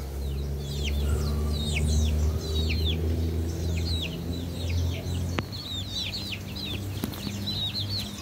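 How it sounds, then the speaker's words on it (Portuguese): Many chicks on a small farm cheeping in a dense, continuous chorus of high peeps, with a low steady rumble underneath. "E aí está os pintinhos."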